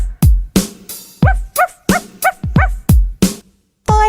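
Cartoon dogs bark in a children's nursery rhyme, a quick run of about a dozen sharp, bouncy woofs and yips in a lively rhythm, loud and close.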